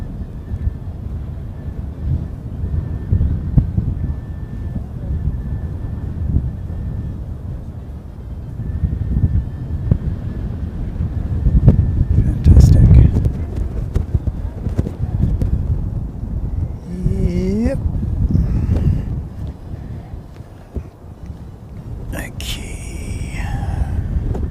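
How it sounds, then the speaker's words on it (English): Blustery wind buffets a microphone during plane spotting at Christchurch airport, a steady low rumble with stronger gusts swelling midway and a few faint tonal sounds in the background. "Pretty blustery all day."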